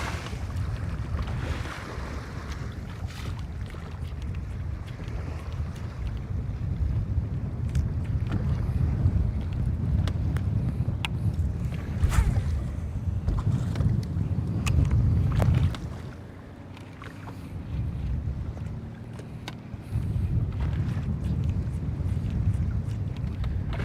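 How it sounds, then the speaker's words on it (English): Strong wind sweeps across open water around a bass fishing boat, a steady rushing roar with low buffeting and water slapping the hull, briefly easing partway through before building again. "The good thing about this wind is that it's strong enough to apparently keep all the eelgrass away."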